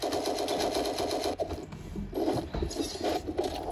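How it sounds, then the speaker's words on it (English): Rapid, dense video game gunfire heard from a distance in a continuous rattling burst that lasts the whole few seconds, fairly faint, with no voices. "I'm being shot at from afar"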